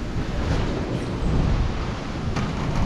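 Strong typhoon wind in Taiwan buffets the microphone with a deep, continuous rumbling roar and gusty swells, loud and close, with no one talking.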